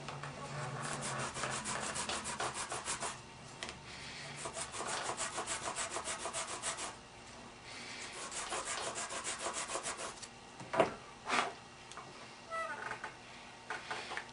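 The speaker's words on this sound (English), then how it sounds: "Now we can sand the whole cork down to size." A cork tenon on an Emerson instrument is sanded down to size, giving close, rapid back-and-forth rasping strokes that run steadily, pause, then return in shorter bursts.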